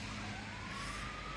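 Distant emergency siren slowly rising in pitch, faint beneath a steady roar of traffic or wind.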